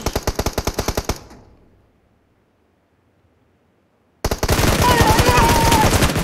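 Loud rapid automatic gunfire in a shooting video game bursts in a fast even rhythm, stops into near silence, then erupts again as a dense, continuous barrage with faint voices underneath.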